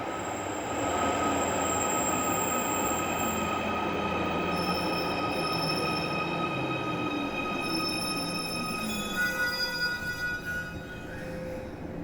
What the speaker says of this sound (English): the piston effect of trains moving through the tunnel